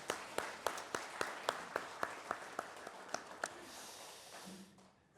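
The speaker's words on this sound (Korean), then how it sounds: "뜨겁게 한번 박수하겠습니다" A church congregation claps for its choir in a series of sharp, evenly spaced claps in a steady rhythm that thins out and stops partway through, leaving soft room noise.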